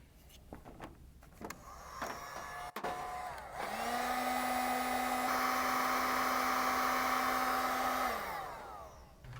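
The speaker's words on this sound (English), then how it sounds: "Use the heat gun to shrink the protective coating that's found on the terminals." A heat gun shrinking protective coating on red and black wire battery terminals during a Holley Sniper EFI install: steady blowing whine rises at about 3.5 seconds, holds loud and even, then winds down near 8 seconds after a few short clicks.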